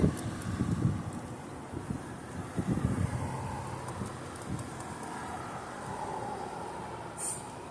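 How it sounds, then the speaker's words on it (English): Gusty wind blowing outdoors near a high school on a very windy day, buffeting the microphone with rough low rumbles that ease into a steadier rush, with no talking. "it's really windy out here"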